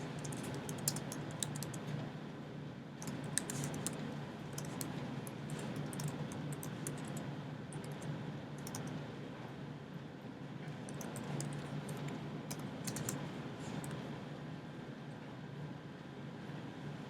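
Programming on a computer keyboard: a steady stream of quick key clicks in bursts over low background hum, fairly close and moderate in level, with no speech.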